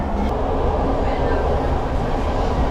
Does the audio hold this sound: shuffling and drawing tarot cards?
no